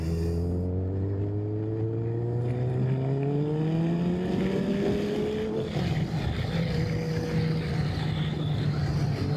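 A Kawasaki ZZR motorcycle engine revs up steadily, its pitch climbing smoothly through the first half before a gear change into a lower, sustained roar, loud and close with no talking.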